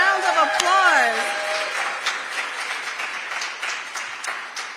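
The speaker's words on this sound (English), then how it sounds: "Give yourselves a round of applause." Audience applause at the launch of the New Jersey Department of State's Cannabis Training Academy: steady, dense clapping that continues for several seconds after a brief burst of voices at the start.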